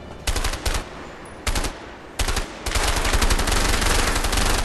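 Gunfire in the video game A Way Out comes as loud, sharp bursts of automatic fire. Two short volleys and a third brief one are followed by a sustained rapid stream of shots.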